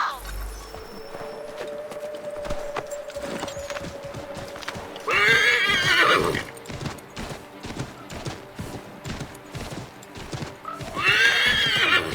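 A horse whinnies loudly twice over steady clip-clopping hooves in the video game Assassin's Creed 3, with a game-like soundscape and background ambience running throughout.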